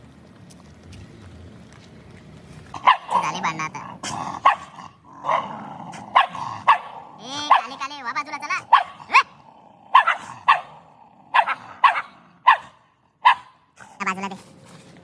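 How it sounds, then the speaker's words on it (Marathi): A dog barks repeatedly in sharp, rhythmic bursts, fairly close, with a person speaking between and under the barks. "जाम भारी कुत्रा आहे"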